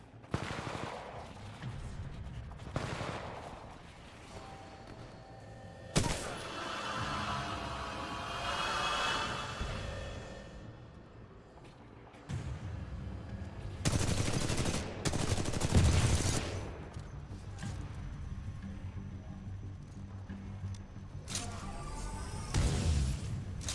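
Bursts of video game battle gunfire come in loud waves, with dense rattling volleys and crashes separated by quieter stretches of droning background.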